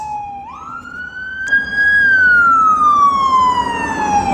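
An emergency siren rises sharply, then wails and slowly falls in pitch, loud and close over road rumble.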